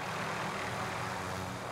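Helicopter engine in Call of Duty Warzone, a steady loud broadband rotor-and-turbine roar filling the whole moment without letup, no voices over it.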